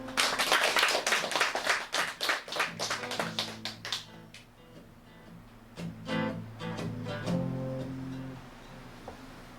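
Audience at a Korean literary talk show and poetry-song event claps in a quick, loud, rhythmic burst that thins into scattered claps while guitar notes begin under it.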